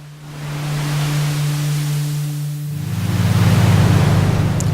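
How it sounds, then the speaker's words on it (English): Synthesized ocean waves from the noise generator of an Access Virus TI synthesizer: a steady hiss of filtered noise that swells louder partway through over a low sustained synth tone, with no voices. "We got the waves from the noise generator."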